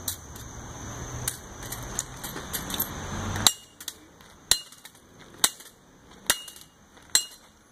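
A toaster is smashed with a series of sharp metallic impacts, about six distinct clanging hits at irregular intervals after an initial noisy stretch, close and moderately loud.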